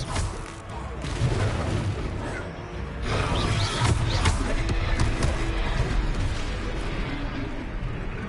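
Spell cast of Expelliarmus in Hogwarts Legacy, a dense, booming magical blast with rumbling low end and layered crackle, loud and sustained across the whole stretch with a second surge midway.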